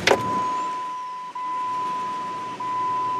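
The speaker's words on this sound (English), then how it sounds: "If I keep my foot on a little bit on throttle, it'll stay running." A 1999-2004 Jeep Grand Cherokee engine kept running at a steady idle by holding light throttle after a PCM replacement, a continuous even hum with a faint steady whine, close and alone.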